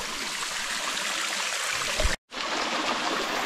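Water trickling and splashing at the Silver Streams waterfall in autumn Crimea, a steady close broadband rush with a brief dropout near the end, no talk.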